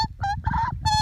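A pet magpie held close calls out in a few loud, harsh, honking squawks with a nasal, tonal edge, short bursts bunched together and very near.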